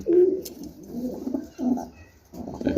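A pigeon coos in a low, soft, rounded rhythm, three or four throaty phrases close by with brief pauses between, with no talk over it.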